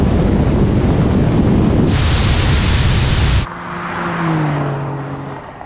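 A Porsche 911 GTS and an electric Porsche 911 launch side by side in a drag race, giving a loud, blasting roar for a couple of seconds before heavy wind rush takes over and slowly fades.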